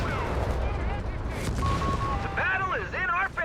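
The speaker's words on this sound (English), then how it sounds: "Jaeger's being met with heavy fire there." Heavy gunfire and mortar fire rumble in a Company of Heroes 3 battle, a dense, continuous barrage of shots and blasts heard beneath steady commentary.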